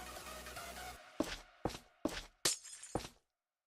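Glass blocks shatter in a video game on a server lobby build: after a short stretch of background noise, five sharp, crunchy breaks land in quick, uneven succession, close and distinct, with no talk.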